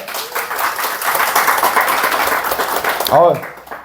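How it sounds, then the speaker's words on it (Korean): Steady applause from a crowd at a company internal lecture, sustained and fairly loud, with a voice speaking briefly near the end. "박수로 시작하겠습니다."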